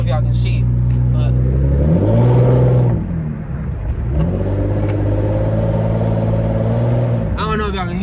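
A car with an exhaust leak drones with a rough, tractor-like rumble, revving up once and settling into a steady low growl, with a person talking over it.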